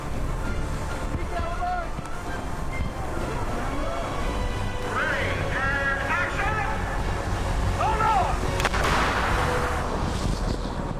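Ship cannons fire on the Pirates of the Caribbean film set, a loud continuous rumble of blasts and crashing with wind noise, while crew voices call out in the background.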